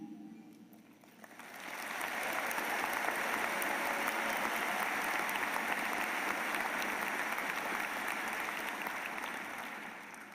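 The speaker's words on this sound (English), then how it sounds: "we applaud and congratulate each of you" A commencement crowd breaks into sustained applause after a short quiet start, a broad, even wash of clapping from many hands that holds steady for about eight seconds before easing slightly.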